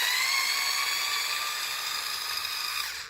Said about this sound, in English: I'm only using a power tool to make the video a little bit quicker